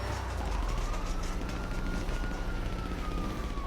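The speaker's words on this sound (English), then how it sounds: "Following the sounds of mass AI deletion and cop sirens" Police sirens wail in the distance in GTA V during a chaotic shootout, a faint sweeping tone rising and falling over a dense rumble of background noise.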